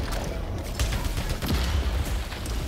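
Rapid gunfire from the video game Returnal, a dense continuous burst of shots over busy game noise and low rumble, loud and close throughout.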